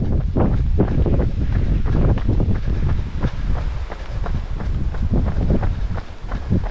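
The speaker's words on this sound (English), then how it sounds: "Just coming up on Bodmin Moor, and it's going to get windy." Strong, continuous wind buffets a microphone outdoors on Bodmin Moor, a dense low rumble with gusty surges throughout and no voices.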